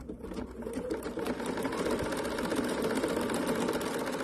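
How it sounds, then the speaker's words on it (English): A sewing machine stitches appliqué at a steady, fast clip without a foot pedal, its needle hammering out an even mechanical patter close by with no pauses. "Nothing like sewing without a foot pedal"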